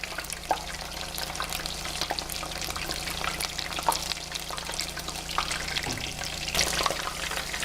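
Shrimp fry in a pan of hot oil for a tempura dinner, giving a steady, close sizzle with scattered pops and crackles and nobody talking.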